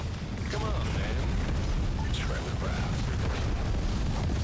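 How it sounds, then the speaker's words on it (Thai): Barracks being blown up in the strategy game Tempest Rising, a continuous heavy rumbling blast with crackling debris, loud and sustained under a voice. "เราระเบิดตัวบาแลกก่อนครับแล้วค่อยไปต่อ"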